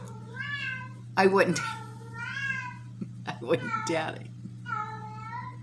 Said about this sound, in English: It's my cat. It's baby cat.